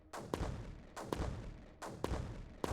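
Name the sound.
mortars firing in video game Creeper World 4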